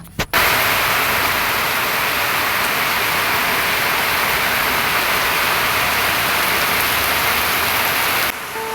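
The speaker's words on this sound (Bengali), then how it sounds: "আবার দেখো কি জোরে বৃষ্টি চালু হয়ে গেছে" Heavy rain falls in a loud, dense, unbroken hiss that starts abruptly and holds steady throughout, then drops slightly in the last moment.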